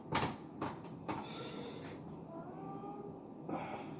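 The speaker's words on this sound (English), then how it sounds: "The cat's begging for food, so I gotta feed the cat." A hungry cat begging for food gives a few soft, short meows, spaced out over quiet household background with faint creaks and clinks.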